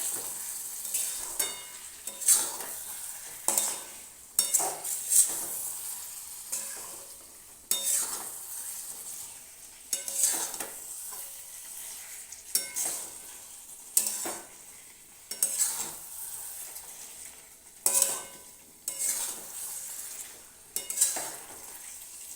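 Mutton curry fries in a pan as a spatula stirs it, giving a close, steady sizzle broken by repeated scraping strokes and metallic clinks against the pan at an irregular rhythm.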